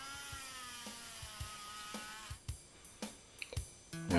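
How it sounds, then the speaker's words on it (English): A Dremel rotary tool cleans a part from a Dinky 38c Lagonda toy car, giving a quiet, steady high-pitched whine broken by small repeated knocks and taps as the bit touches the metal, with no talking. "So I'm going to have to go to extremes in my case, which is to use the Dremel tool."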